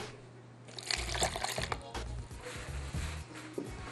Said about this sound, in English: And then I'm going to put some water,